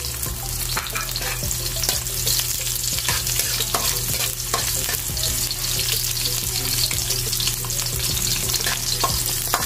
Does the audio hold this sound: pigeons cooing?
no